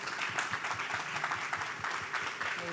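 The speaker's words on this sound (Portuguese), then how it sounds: "Uma salva de palmas." An audience at a panel at the 2019 Rio book fair, Bienal do Livro Rio, claps in sustained, even applause lasting a few seconds, with a hint of crowd murmur.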